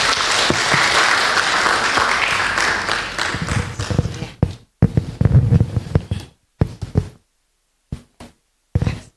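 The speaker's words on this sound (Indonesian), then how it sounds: "kita berikan tepuk tangan yang meriah." An audience at a church's 47th anniversary celebration claps loudly and densely, then the applause thins into scattered, uneven claps with silent gaps before dying out.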